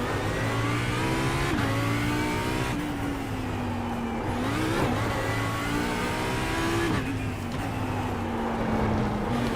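A race car engine revs and shifts through gears in the iRacing sim during a Long Beach IMSA trackday, a loud continuous drone whose pitch climbs and drops repeatedly with each upshift, close and steady with no talk.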